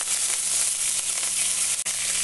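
Washed curry leaves drop into hot oil with fenugreek and peppercorns for a black lentil curry, setting off a steady, fairly loud frying sizzle with a brief dip near the end.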